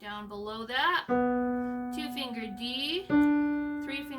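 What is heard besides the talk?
No everyday noises stand out.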